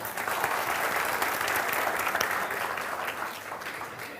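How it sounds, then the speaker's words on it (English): An audience at a science exhibition and science show claps steadily, a dense, even wash of applause from many hands that holds throughout and eases slightly at the end. "Give him a good clap."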